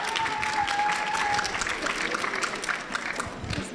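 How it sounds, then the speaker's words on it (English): Audience applause for handkerchief dancers at a high school Mandarin heritage assembly, dense clapping and crowd noise throughout, with a brief sustained tone near the start and some voices in the mix. "let's give another round of applause for our handkerchief dancers"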